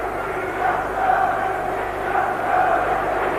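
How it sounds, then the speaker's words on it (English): A packed arena of about 17,500 spectators at the 1981 World Gymnastics Championships reacting during a floor routine, a steady wash of massed cheering and murmur that swells gently in waves, with no clear voice on top. "Big reaction from this crowd."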